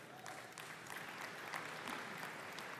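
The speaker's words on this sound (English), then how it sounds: "yeah, you can clap, it's awesome" Scattered applause from a tech conference audience during an Azure developer demo, a faint, steady patter of many hands held at a distance.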